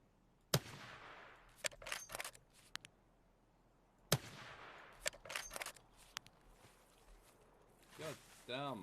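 Gunshots ring out in a hunting video game, sharp isolated cracks with a couple of rapid bursts spread across several seconds, set against a quiet background.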